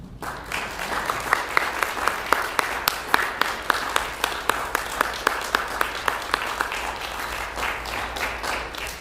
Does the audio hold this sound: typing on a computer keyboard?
no